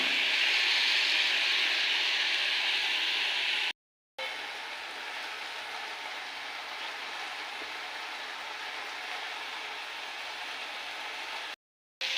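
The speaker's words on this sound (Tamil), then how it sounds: "வெங்காயம் நல்லா பொன்னிறமாக வதங்கிடுச்சு இப்போ இஞ்சி பூண்டு பேஸ்ட் போட்டுக்கலாம்" Ginger garlic paste sizzles in a pan with golden fried onions for an egg kurma, a loud, steady hiss that runs on continuously with two brief cut-outs.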